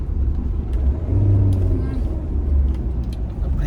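Mahindra Thar RWD diesel engine idling and revving on farmland, a steady low rumble that swells briefly, heard close alongside people talking.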